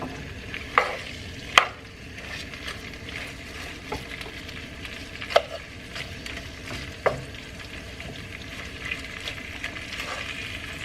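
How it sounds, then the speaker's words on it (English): Head-on shrimp frying in hot oil, a steady close sizzle broken by occasional sharp clinks and scrapes as they are stirred around the pan. "So just make sure that you're frying your shrimp."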